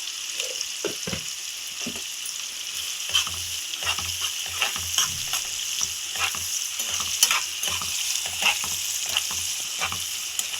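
Chopped onions and cumin seeds fry in oil for a mushroom tomato curry, a steady sizzle broken by repeated scraping stirs of a spoon against the pan, close and clear with no talk.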